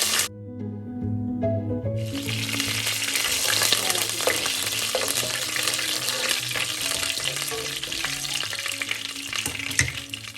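Half a teaspoon of fenugreek seeds, then curry leaves, fry in hot oil for a trevally pepper curry. After a brief musical intro, a loud, dense crackling sizzle takes over and continues close up with no talk.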